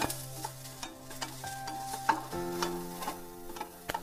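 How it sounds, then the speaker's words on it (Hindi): Onions sautéing in a pan make a gentle sizzle, punctuated by repeated light clicks and scrapes of a spoon stirring, close up, with a steady background hum and no talk. "हमें प्याज को बहुत ज्यादा नहीं भूनना है"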